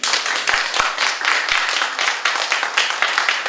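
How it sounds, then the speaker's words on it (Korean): A seminar audience claps by hand, a dense patter of many close individual claps with sharp louder strikes standing out, steady for a few seconds with no talk. "다시 한번 큰 박수 부탁드리겠습니다"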